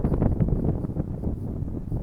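Strong, cold wind blows outside a house on an island, buffeting the microphone in uneven low gusts that rise and fall over a couple of seconds, with no voices.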